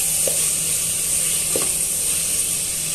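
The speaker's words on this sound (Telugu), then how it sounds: "ఇలా మసాలా అంతా వేయించేసుకోవాలి." Whole masala spices fry in oil in a pan for bagara rice, making a loud, continuous close sizzle with a couple of soft clicks from stirring.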